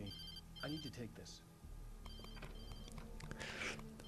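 Cell phone ringing in the Alan Wake video game, a repeating electronic ringtone running steadily throughout with someone talking over it.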